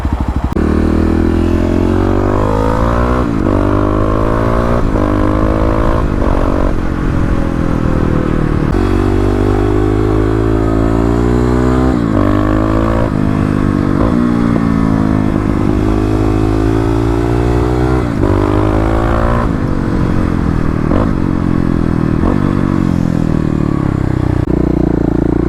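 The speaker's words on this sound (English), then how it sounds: "it appears you do get some of that noise coming from the engine" A Kawasaki KLX351 dirt bike engine drones and revs continuously throughout, close and loud, with the pitch rising and falling as the rider shifts and accelerates.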